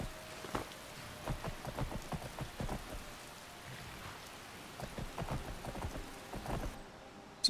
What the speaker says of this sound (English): Is the rain slowing? I think it's slowing down